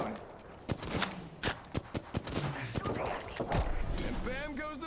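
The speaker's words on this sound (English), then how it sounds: "Reloading." Weapon reload in Apex Legends, a run of sharp mechanical clicks and clacks amid gunfire bursts, close and fairly loud, with a player talking over it.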